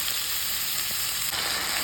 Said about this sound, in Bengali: আমি এখানে চিকেনটাকে ভালো করে পেঁয়াজের সাথে দিয়ে ভেজে নিচ্ছি।